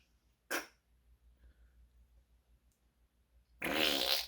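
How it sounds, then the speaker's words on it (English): Two short, loud fart noises, one brief burst near the start and a longer, sputtering one at the end, separated by near silence. "All you hear is fart noises coming out."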